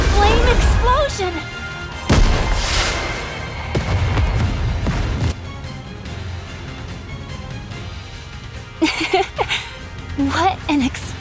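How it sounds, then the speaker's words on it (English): A character's Final Flame Explosion attack in the game Goddess of Victory sets off heavy booming blasts and whooshing bursts, with shouted speech and stylized effects between the impacts. "Final flame explosion!"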